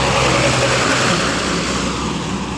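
Dumper truck engine on a village road, a loud, steady close rumble with broad roaring noise that eases slightly toward the end.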